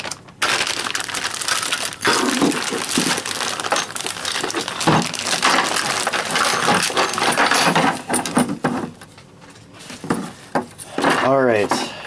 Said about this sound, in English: Ziploc bag.